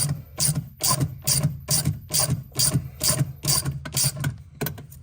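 A ratchet wrench loosens 15 millimeter nuts on a car during clutch pedal work, ten or so bursts of rapid clicking in a steady back-and-forth rhythm, loud and close with no voices.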